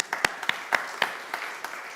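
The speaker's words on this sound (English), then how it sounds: "give a round of applause for Joseph." A small church weekend gathering gives Joseph a thin round of applause: a handful of distinct, fairly close claps scattered unevenly over two seconds, fading toward the end.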